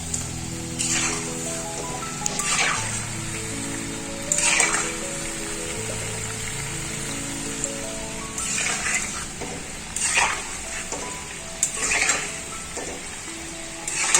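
Palm fritters (tal fuluri) deep-frying in hot oil make a bubbling, crackling sizzle close by. Louder spatters and pops recur every couple of seconds over a continuous low bubbling.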